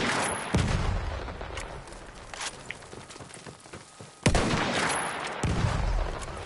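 Gunfire in Battlefield 1 as K bullets, anti-tank rounds, are shot at a tank: two loud, sharp reports roughly four seconds apart over a busy backdrop of battlefield noise, with a smaller report in between.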